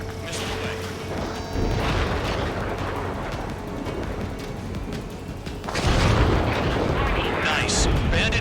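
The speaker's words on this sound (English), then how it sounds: "Missile away." A missile launch and hit on an enemy jet in the Ace Combat 7 video game: a loud roaring rush of rocket and jet noise that swells sharply near the end, with radio voices talking over it.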